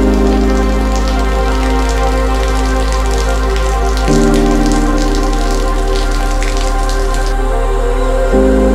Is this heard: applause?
no